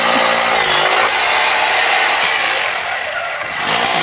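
A power drill bores holes into a house wall for a one-inch UPVC plumbing tank line, a loud continuous close grinding whine held throughout.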